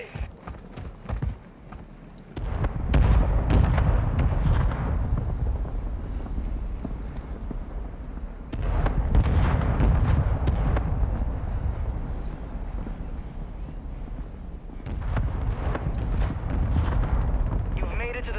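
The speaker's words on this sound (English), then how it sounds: "Mortar strike on the way." Mortar strike explosions in a video game, three heavy booming blasts, each rolling into a long rumbling decay of several seconds, arriving at regular intervals loud and close after a short quieter opening.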